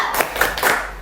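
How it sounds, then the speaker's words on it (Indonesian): A classroom audience of teachers in training performs the rhythmic 'tepuk semangat' clap, with a few sharp, evenly spaced claps in quick succession that sound close and fairly loud. "Coba tepuk semangat terlebih dahulu."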